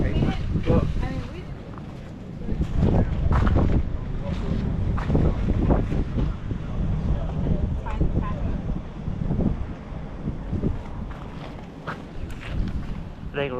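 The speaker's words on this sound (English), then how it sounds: "it's not the temperature, it's the wind." Strong wind buffets the microphone in steady, roaring gusts outdoors, with people talking faintly underneath.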